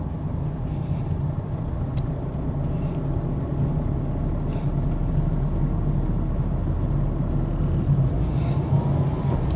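A car pulls along in second gear, its engine and road noise making a steady low rumble throughout, heard from inside the cabin with no talking.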